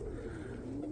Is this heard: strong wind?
no